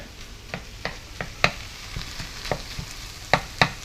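A bacon cheeseburger mixture sizzles in a pan under a soft steady fry hiss, with a spatula scraping and tapping the pan in irregular sharp strokes, close by.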